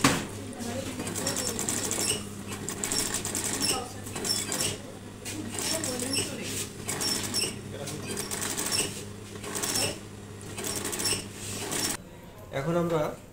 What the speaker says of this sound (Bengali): তার আগে আমরা স্লিপের নিটেনিং সিমটা আমরা সেলাই করে নিচ্ছি